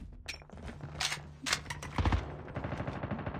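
MX9 gun fire in a video game: rapid bursts of automatic shots crackle close and loud, with short pauses between volleys and a sustained burst toward the end.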